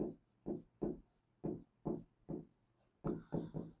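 Pen scratching out a handwritten math solution on paper, working through complex numbers, in a run of about ten short strokes with brief gaps, close and fairly quiet with no speech over it.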